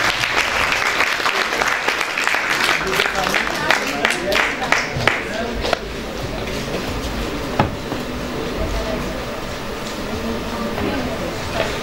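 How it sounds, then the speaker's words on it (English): An audience at a literary festival claps for a guest speaker. The applause is sustained, with individual sharp claps standing out early on, then thins into a softer, even patter, with some voices mixed in. "A huge round of applause, ladies and gentlemen, please."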